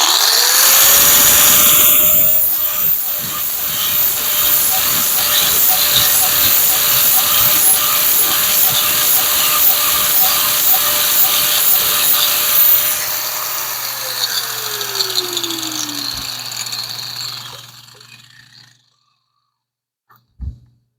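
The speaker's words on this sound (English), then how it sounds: "Need to grind that burr off of there" A power grinder spins up with a rising whine and grinds a burr off a homemade metal 4-speed shifter handle part for a Mopar A-body, a loud steady gritty roar that winds down, then falls silent.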